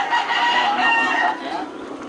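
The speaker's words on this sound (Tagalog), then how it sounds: "May manok din dito." A rooster crows loudly among chickens at a farm with many hens, one drawn-out crow close by over a busy flock, with a faint voice in the background.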